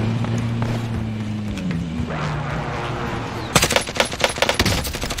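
Rapid automatic gunfire bursts in the Warzone battle royale game erupt loudly over a steady engine drone, dense and rattling in the final seconds after a quieter stretch of low humming.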